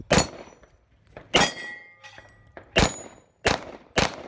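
A .308 rifle bullet strikes a steel spinner target during a 3-gun match: five sharp, ringing metallic clangs, loud and evenly spaced with short decaying rings between hits.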